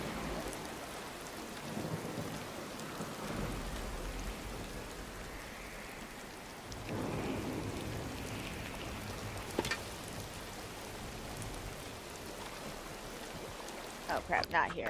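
Rain and thunderstorm ambience in the video game Disney Dreamlight Valley: steady rainfall with rolling thunder swelling mid-clip, continuous and fairly loud throughout.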